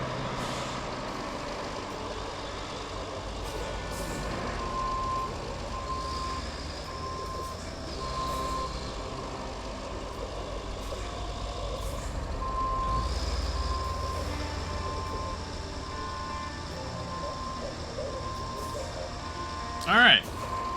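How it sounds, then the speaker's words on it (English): Truck reversing in the video game RoadCraft, a steady reverse alarm beeping under engine rumble and hiss of air brakes, with a sharp loud burst near the end and someone talking over it. "There's a truck coming in there."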